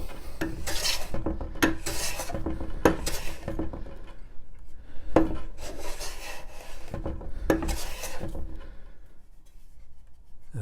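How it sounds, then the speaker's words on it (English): A hand plane strokes along the wood of a pallet spice rack shelf clamped on a Workmate, giving repeated rasping, rubbing passes roughly every second, close and fairly loud with no talk. "I'm just going to check that I haven't planed that off flat."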